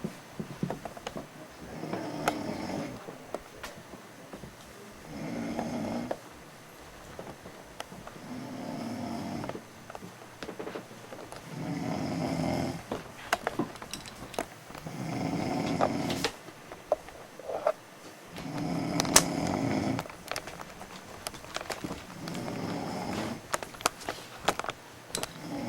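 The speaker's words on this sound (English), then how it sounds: "Dad's snoring is ridiculously loud." A sleeping man snores loudly in a steady rhythm, each rasping inhale swelling and fading every few seconds, close and alone in a quiet room.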